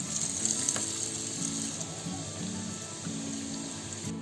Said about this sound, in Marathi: त्याच्यानंतर ती आता तेलात सोडते